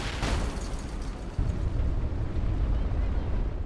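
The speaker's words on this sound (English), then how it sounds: "I got a grenade over here at A." A grenade explodes in a video game, heard as a sustained, loud, broadband boom and rumble that fills the whole stretch with a fresh surge partway through, with no clear talk over it.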